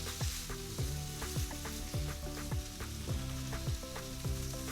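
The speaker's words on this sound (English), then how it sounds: "Now you want to cook the pork while using the side of a spatula to crumble it up" Ground pork fries in a pan while a spatula side chops and crumbles it, giving rhythmic scraping knocks over a constant loud sizzle with no voices.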